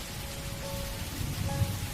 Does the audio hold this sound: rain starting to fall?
yes